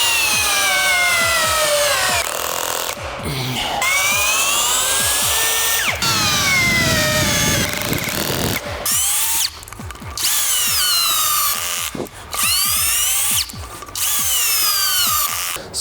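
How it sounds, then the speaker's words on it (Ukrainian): A Procraft PA-18 cordless drill drives a screw, 12 by 120, into wood: a loud continuous motor whine that sweeps up and down in pitch as it loads and frees, broken by several short stops and restarts. "кожним разом все глибше і глибше залазить цей гвинт"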